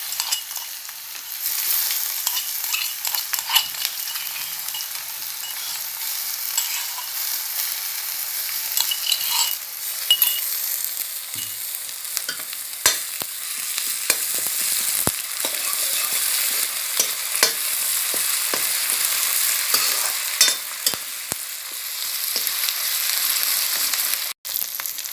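Onion frying with ginger, garlic and pepper paste gives a continuous bright sizzle close up, with scattered sharp crackles and spatula stirs throughout and no talking.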